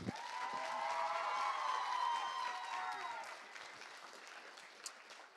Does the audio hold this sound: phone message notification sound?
no